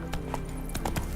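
Horse hooves clip-clopping in The Witcher 3 video game, a few quick, irregular, fairly close hoof clops with no talk over them.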